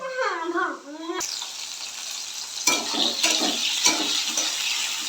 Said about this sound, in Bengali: উচ্ছেটাও ভাজছি এটাও একটু হালকা লাল লাল করে ভাজবো